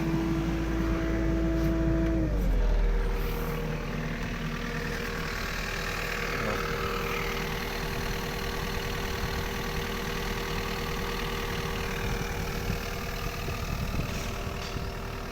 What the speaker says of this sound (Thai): ับใครเร่งเครื่องครับ